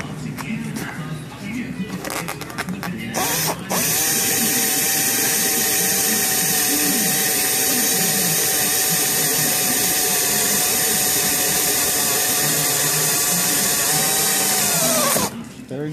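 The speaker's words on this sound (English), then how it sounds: "put a drill bit right through. And that's where you're going to drill." A power drill bores through an E30 metal bumper, a steady high whine running unbroken for about twelve seconds after brief handling noise, then stopping abruptly near the end.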